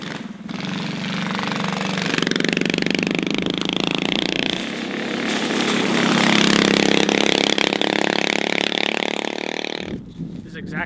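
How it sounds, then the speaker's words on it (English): A cheap engine fitted to an old racing go-kart runs loudly and steadily for about ten seconds with a harsh, buzzing drone that swells and falls as it revs, then cuts off abruptly near the end. "just like got an old go-kart, threw a cheap engine on it"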